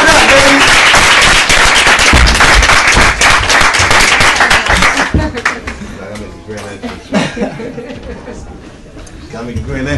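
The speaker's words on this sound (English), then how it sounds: "Clap it up, baby." A talk show audience claps and cheers for a guest's entrance, dense loud applause that thins out halfway as a voice starts talking over the last scattered claps.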